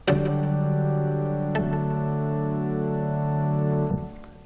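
An Omnisphere organ synth plays a few sustained chords with sharp attacks, each held steadily before changing, ending as the last chord fades.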